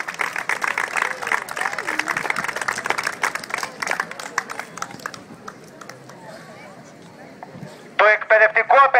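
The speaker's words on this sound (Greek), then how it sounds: "Χειροκροτούμε λοιπόν το σωματείο των συνταξιούχων που βρίσκεται σήμερα μαζί μας." Applause at a Greek teachers' strike rally for a pensioners' union, a dense burst of clapping from the crowd that fades into quieter murmur, followed by a loud voice over a PA at the end.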